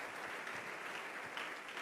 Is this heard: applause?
yes